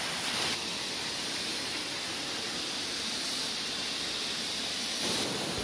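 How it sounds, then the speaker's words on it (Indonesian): Batu Manrusu waterfall seen from above, pouring as a steady, dense roar of rushing water that holds without pause from start to finish. "ini adalah penampakan dari air terjun Batuman Rusuh dari atas"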